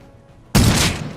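A single loud gunshot burst in the Rust survival game, a sudden sharp blast after a quiet moment, with a rough tail that fades out over a fraction of a second.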